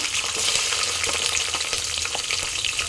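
Dried red and green chilies fry in plenty of hot oil, giving a loud, close, continuous sizzle with crackling pops throughout.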